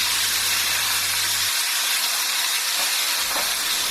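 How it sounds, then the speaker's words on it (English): Potato wedges hit a hot pan with a loud, close, continuous hiss of sizzling oil and steam that holds steady throughout, with no voices. "We're now going to add our potatoes."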